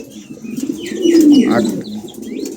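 Pigeons of a high-quality breeding line coo close by in a soft, throaty swell that peaks midway, with a few faint chirps and light rustling around it.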